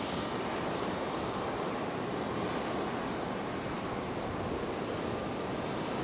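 Delta Airbus neo jet at Raleigh-Durham airport produces a constant, dense engine roar with a thin high whine on top, heard from a distance and steady without any change.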